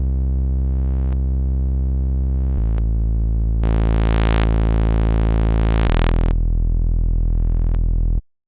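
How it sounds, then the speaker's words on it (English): A synthesizer plays a single mono saw-wave layer for a hardstyle lead: a bright, buzzy sustained tone that shifts pitch a few times and swells into a noisy, wide burst in the middle, heard alone and steady before stopping abruptly. "actually just a simple saw wave"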